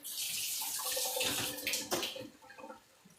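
Water sloshing and rinsing inside a container, a busy splashing wash that rises and then trails off into scattered drips and small splashes, close and alone.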